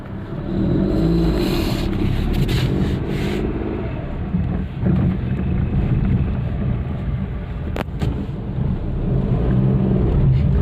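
A Renault Kwid with a low-pickup fault restarts and runs, its engine holding a steady, loud low rumble throughout with a brief dip midway and no talk over it.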